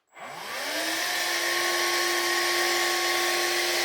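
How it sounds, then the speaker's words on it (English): A serviced old Vax Air cordless vacuum cleaner spins up from silence, its motor rising in pitch over the first second, then settles into a loud, steady high whine with airy rushing noise. "Fit this to here, fit it to the machine, and we'll test it."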